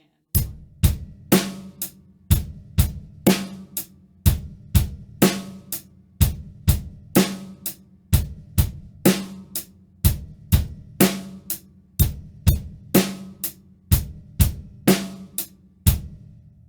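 A drum kit plays a steady eighth-note beat: bass drum on 1-and and 3-and with snare hits on 2 and 4, a clear, evenly spaced pattern repeating for the whole stretch with no talking.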